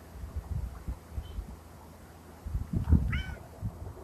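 A cat meows once, a short rising-and-falling call near the middle, close to the microphone over low handling thumps and room rumble; no speech.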